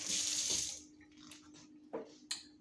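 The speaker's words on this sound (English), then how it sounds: "Rinse my hands" Tap water runs into a sink as hands are rinsed beneath it, a steady close splash that cuts off after about a second, followed by faint drips and small knocks.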